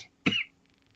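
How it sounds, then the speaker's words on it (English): A single short cough, close and fairly loud, with a faint low hum of room tone around it and no talking. "sorry, I just had to cough there a second."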